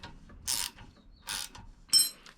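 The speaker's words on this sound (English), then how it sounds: "Now we can go ahead and tighten this down." A wrench ratchets while tightening down a part on a MotoVox minibike roller, three short bursts of clicking turns, close and clear in an otherwise quiet space.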